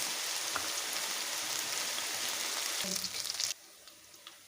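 Boti (tripe) curry fries with chili powder in a pan, a dense, close, steady sizzle that drops off sharply near the end, leaving a softer crackle.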